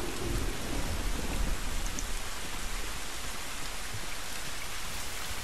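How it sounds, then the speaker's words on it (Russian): A thunderstorm in the video game The Last of Us: steady, dense rain hiss with low rumbling thunder underneath, continuous and fairly quiet, with no speech. "Только молния, гроза и вода."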